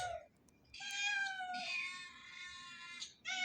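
A kitten in a garden gives a few drawn-out, high meows in close succession, fairly faint and alone against quiet outdoor background.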